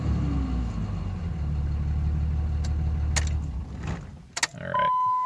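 Cummins 5.9 diesel with the idle raised toward 2,000 rpm, a steady loud low rumble for a few seconds that then drops away, followed by a few brief clicks and a short electronic tone.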